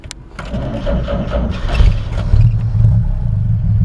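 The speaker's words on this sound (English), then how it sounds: "it's still got the old foot pedal start" A 1941 Chevrolet Business Coupe cranks on its old foot-pedal starter, then its engine catches and runs loud and rough, a holed muffler adding rumble.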